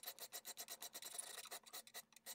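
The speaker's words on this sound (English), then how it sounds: "switching to the smaller files takes away some of the more offending gouges in the knife" Smaller hand files rasp across a knife blade in quick, steady back-and-forth strokes, close and dry, with a brief pause near the end and no talking.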